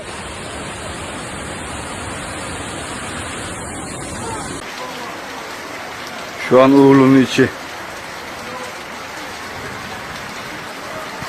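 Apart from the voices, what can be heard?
floodwater rushing through neighbourhood streets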